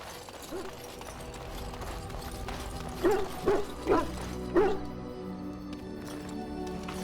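A dog in the video game Dragon Age Origins lets out a short run of four sharp barks and snaps, moderately loud over a steady background hum.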